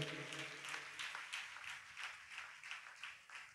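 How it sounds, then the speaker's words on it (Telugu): A church congregation at a New Year service claps together, a soft, steady run of hand claps in an even rhythm, fairly distant and faint after a brief voice at the start. "చప్పట్లు కొట్టండి గట్టిగా."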